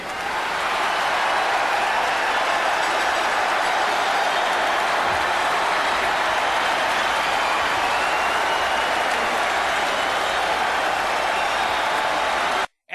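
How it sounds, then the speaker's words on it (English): A packed arena crowd at Nassau Coliseum roars and cheers for Herb the timekeeper, a dense, steady wall of applause and shouting that holds loud and unbroken for the whole stretch before cutting off abruptly. "the crowd at the Nassau Coliseum, they are going absolutely nuts for Herb"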